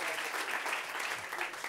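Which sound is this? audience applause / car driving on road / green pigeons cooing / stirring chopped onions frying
audience applause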